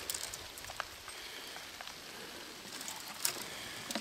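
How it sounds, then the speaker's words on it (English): Rain falls outdoors in the woods during marten trapping, a soft continuous patter with scattered louder drops tapping on nearby surfaces. "Rain."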